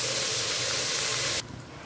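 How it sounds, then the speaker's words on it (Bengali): Chopped onion and garlic fry together in hot oil with a loud, steady hiss that cuts off abruptly, leaving a quieter background. "পেঁয়াজ আর রসুনকে একসাথে আমি তেলের মধ্যে ভেজে নিচ্ছি।"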